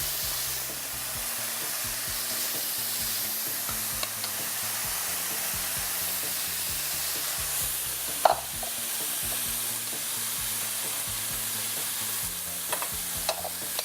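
Lamb chops sizzle in a pan coated with infused olive oil: a loud, continuous, close frying hiss over nearly fourteen seconds, with a few faint clinks and pops.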